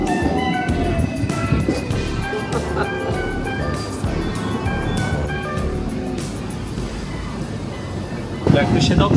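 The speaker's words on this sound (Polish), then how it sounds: "Zaczniemy od podróży tramwajem, ale takim, jakiego nie ma nigdzie indziej na świecie." Steady rumble and rattle of a double-decker tram in motion in Hong Kong, with metallic clatter, squeals and a clack near the end, noisy throughout.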